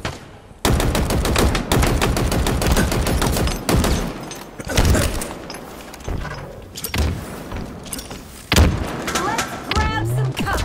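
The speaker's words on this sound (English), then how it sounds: "Taking fire." Gunfire in a video game: dense bursts of rapid automatic shots, loud and close, firing almost continuously with brief pauses, along with impacts.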